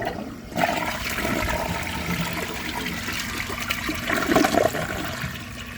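A 2006 comfort-height Vitromex Marathon II toilet flushes, with a steady rushing, trickling wash of water that runs the whole time and swells near the end as the bowl siphons.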